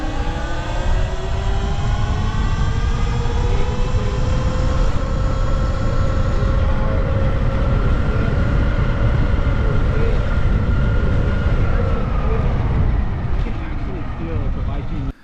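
Talaria Sting electric motorcycle at full throttle, a steady rising motor whine with tonal harmonics over heavy rushing wind and road noise, loud and close throughout.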